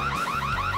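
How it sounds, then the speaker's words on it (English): An alarm wails in a rapid rising-and-falling siren pattern, loud and continuous over a brief stretch, with no voices. "sound the alarm!"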